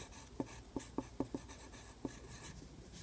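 Writing words on a board, with a series of short, distinct marker or chalk strokes in an uneven rhythm, close and fairly quiet over a faint room background.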